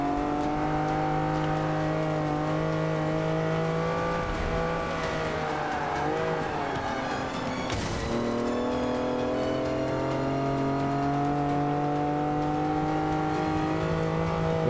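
Race car in Forza Motorsport 5 revving hard through gears, its engine whine climbing and dropping with a brief tire squeal near the middle, loud and continuous without talk.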